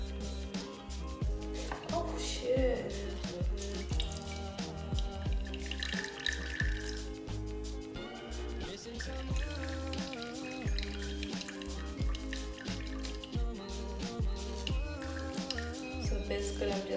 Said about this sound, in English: I'm just straining, and I'm going to show you the particles that we were avoiding